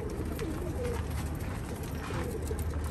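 Imported racing homing pigeons coo steadily in a loft under a dense, constant wash of background noise, with no talking.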